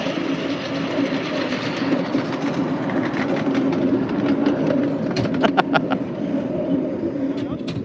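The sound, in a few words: 5-inch gauge live steam locomotive rattling along track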